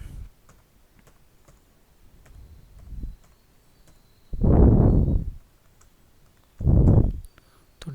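Computer keyboard keys click in sparse, irregular taps while Arduino code is being written, quiet and close, interrupted by two loud bursts of breathy noise.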